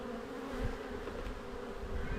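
Honeybees buzz during a hive inspection, a close, continuous droning hum that stays fairly even throughout, with no talking.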